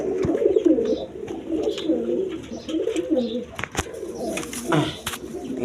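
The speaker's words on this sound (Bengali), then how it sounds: "এখানে এক পেয়ার গররা কবুতর আছে" A pair of Gorra pigeons and other breeding pigeons coo in overlapping, bubbling murmurs close by, with someone talking over them and brief clatters in between.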